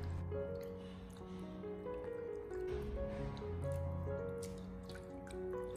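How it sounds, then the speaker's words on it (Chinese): Soft watery sloshing and dripping as hands stir raw chicken legs in a basin filled with clean water to rinse off flour, quiet and close against a steady low background hum. "往盆里面添加满清水，将鸡腿再次的清理一下，用手将它抓拌几下"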